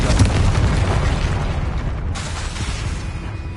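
Bombarda spell blasting in the Hogwarts Legacy video game: a loud, dense, roaring explosion rumble that fills the whole stretch, briefly dipping midway before surging on with a trailing crackle.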